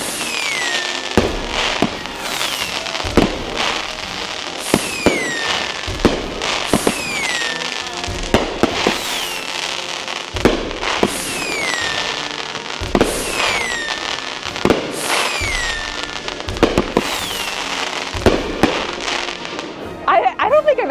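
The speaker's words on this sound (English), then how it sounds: "I don't think I've actually ever seen Wisconsin fireworks" Fireworks bursting again and again through Independence Day week in Wisconsin, a steady run of loud booms and crackling shells every second or two, with voices in the crowd chatting underneath.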